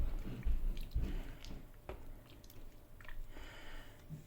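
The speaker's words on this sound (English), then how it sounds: "try to press the butter together in order to separate it from the buttermilk" Pressing soft butter to separate it from buttermilk, quiet wet squishing and squelching presses with a few soft drips, close and uneven.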